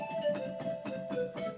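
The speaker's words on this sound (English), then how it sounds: "like pan flute, Andes flute." Soft, breathy pan flute notes from a Ketron SD90 keyboard in a quick repeated pattern, each with a light airy attack, fairly quiet.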